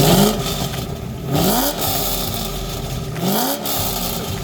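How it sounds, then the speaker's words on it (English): A 2003 Chevrolet Corvette Z06 C5 with an aftermarket titanium exhaust and quad tips revs its engine in three sharp rising blips, loud and close, each settling back to a rough, burbling idle between pulls. "In order to save some weight, the engineers decided that it would be best to actually fit this with a titanium exhaust."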